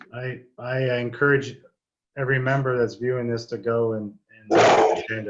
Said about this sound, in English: Sorry, you guys, that's my dog.